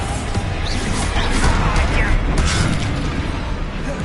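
A Bombarda blasting spell explodes during a Hogwarts Legacy duel, a dense rumbling boom that stays loud for several seconds amid crackling debris and combat noise.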